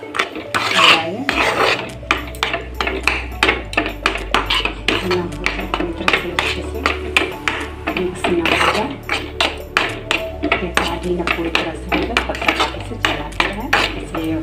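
A spoon scrapes and rasps against a pan as peanut barfi mixture is stirred over a gas flame, a steady run of repeated scraping strokes with metallic clinks, close and fairly loud throughout.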